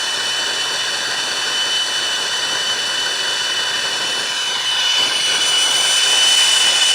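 Turbo Torch flame burning steadily during brazing work, a loud, continuous roaring hiss that stays even and swells slightly toward the end, no voices.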